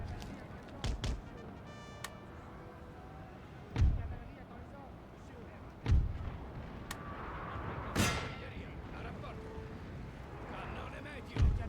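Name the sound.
artillery fire in the video game Napoleon Total War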